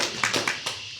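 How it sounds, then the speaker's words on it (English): A small workshop audience gives a short burst of applause, a few scattered claps and taps at moderate distance, fairly faint and fading within a second. "Round of applause for Kuru."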